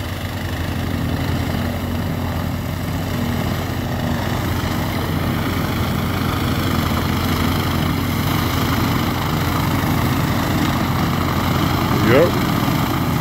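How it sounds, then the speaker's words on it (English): A snow blower engine runs steadily and loudly throughout, a continuous droning hum with no breaks, while a brief higher whine rises near the end. "Snow blower getting down a little bit."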